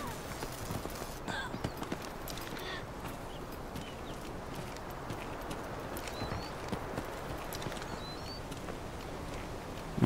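Rapid footsteps clatter steadily behind the player in a video game, a dense, continuous patter heard at moderate loudness amid low ambient noise.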